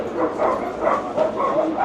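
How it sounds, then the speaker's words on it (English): Several dogs bark and yip repeatedly in a steady, overlapping chorus at moderate distance, with no talk over them. "Dogs are still going off their nut."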